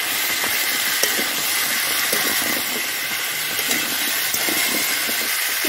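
Pumpkin and shrimp frying with chili, turmeric and salt in a pan give off a steady, close hiss and sizzle, with small crackles and pops scattered throughout and no talking.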